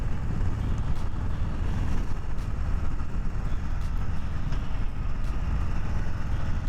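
A 2020 Harley-Davidson Softail Street Bob motorcycle accelerating during break-in riding, a steady low engine rumble blended with rushing wind noise, continuous and fairly loud with no clear rise or fall and no speech.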